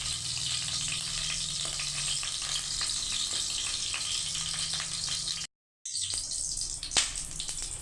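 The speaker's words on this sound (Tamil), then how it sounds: "கடுகு நல்லா பொரிஞ்சிருக்கு" Mustard seeds sizzle and pop in hot oil, a dense, continuous crackle heard close. It cuts off for a moment, then comes back with one sharper pop.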